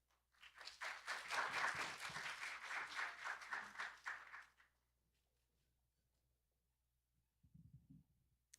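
Audience at a university graduate admitted students day event gives a sustained round of applause for a dean, steady clapping lasting about four seconds before fading to quiet, with a brief soft murmur of shuffling afterward.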